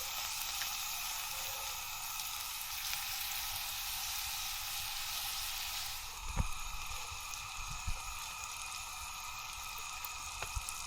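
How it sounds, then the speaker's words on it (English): Flounder fillets fry in a pan with a steady, moderate sizzle that hisses continuously throughout, broken near the end by a few soft clinks and bumps from nearby handling. "the fish is cooking just fine"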